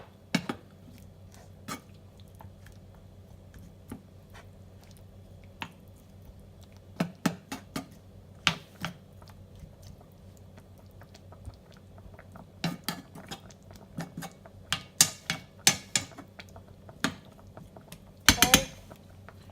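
A spoon stirs lamb stew in a pot, giving scattered metallic clinks and scrapes against the pot over a low steady background, with a denser, louder burst of clatter near the end.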